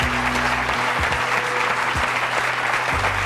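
Studio audience on a French TV talk show breaking into sustained, dense applause that fills the whole moment, steady and close with no voices over it.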